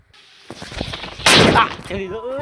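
Diwali firecrackers in a village setting: a fizzing fuse build-up followed by one loud, close explosive burst, with voices talking and a shout just after.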